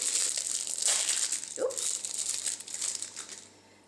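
Packaging of a Purabali hemp dry-oil body care product being opened, with close, continuous crinkling and crumpling of plastic or paper wrap for a few seconds.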